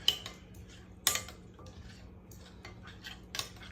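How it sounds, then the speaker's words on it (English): Garlic Parmesan chicken and potatoes from a crockpot being stirred with a utensil and moved into a bowl, giving a few quiet clinks and scrapes of metal against dishware, with one sharper knock partway through and no talking. "I am gonna go ahead and just give this a quick little mix, and I'll go ahead and put it in one of my containers"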